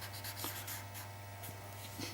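A blending stump rubs across pencil shading on paper in soft, close, continuous scratchy strokes, gently rhythmic and unaccompanied by speech.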